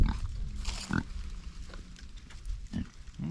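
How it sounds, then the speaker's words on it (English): A small pig on a farm gives several short, low grunts close by, with snuffling between them and a soft rustle of movement underneath. "A little pig. He's a bully."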